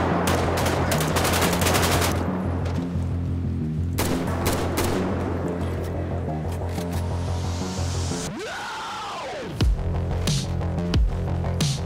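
Sustained automatic gunfire in GTA 5 during a zombie survival mode, dense rapid bursts that fill most of the stretch, with a swooping engine-like tone and a few more single shots near the end.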